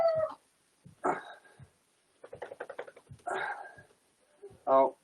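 Puppies play and wrestle underfoot during a gentle fitness session, giving short yips, whimpers and little barks in scattered bursts. The sounds are close and fairly faint, with a person talking in between.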